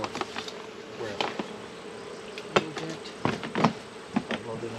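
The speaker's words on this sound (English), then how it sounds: "still some bees in there, and that's okay" Honey bees buzz during a honey harvest, a soft steady drone with individual bees zipping past close by at intervals, a few faint knocks mixed in.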